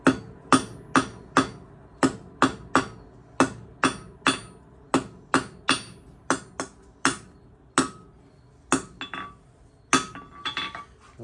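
Steady, evenly spaced ringing hammer blows on hot-rolled round steel bar being forged into a two-sided tapered point for a copper and steel rose, close and sharp with a few quicker taps near the end.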